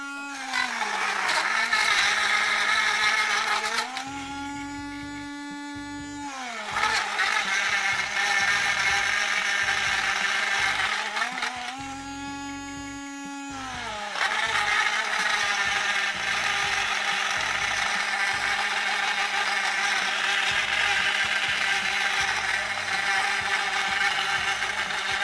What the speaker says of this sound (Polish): Aby rozpocząć miksowanie, należy obrócić blender, a następnie włączyć go podwójnym kliknięciem.